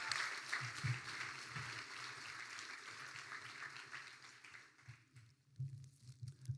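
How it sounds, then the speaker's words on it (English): Graduation audience applauding Chloe at a Year 12 ceremony in a hall, a moderate crowd clapping that thins and fades toward the end, fairly quiet and somewhat distant. "Please give Chloe another round of applause."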